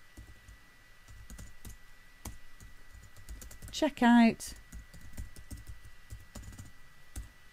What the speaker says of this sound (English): oh, I'm not very good at typing.